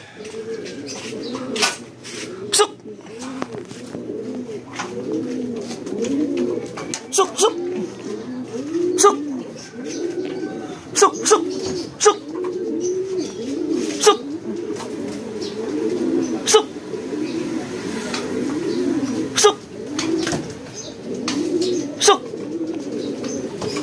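Pigeons coo over and over in soft, throaty rolling calls, with scattered sharp clicks and taps throughout and a few faint chirps in the background.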